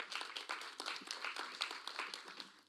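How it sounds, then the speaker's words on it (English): Faint, scattered clapping from a small audience at a national tourism debate final, a steady patter of hand claps without cheering, heard from a distance. "let's give them a round of applause, please"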